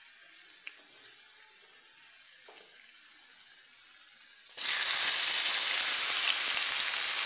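Urad dal and chana dal frying in oil give a faint, quiet sizzle, then a loud, steady hissing sizzle bursts in and holds to the end as garlic is added.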